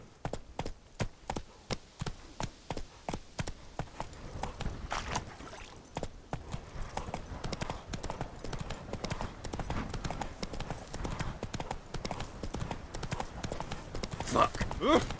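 Roach the horse pounds along in a rapid run, hoofbeats clopping in a fast, even rhythm that thickens into a dense, loud drumming, with voices talking over the galloping.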